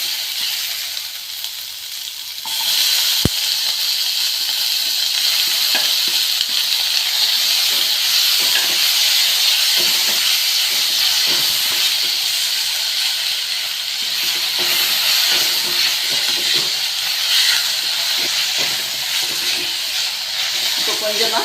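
Onions sautéing with salt in a pan for rava pongal, a loud constant hiss of frying with a sharp clink near the start and light stirring scrapes over it.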